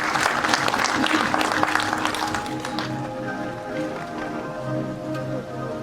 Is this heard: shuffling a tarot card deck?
no